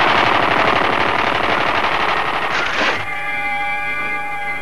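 Gunfire in a Tintin cartoon: a loud, rapid burst of automatic shots rattles for about three seconds, then cuts off abruptly into a quieter ringing tone.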